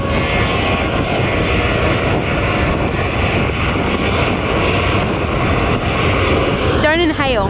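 Sustained loud roar of an Airbus A380 jet airliner's engines close by, a dense continuous rumble and whine lasting throughout, with a voice cutting in briefly at the end.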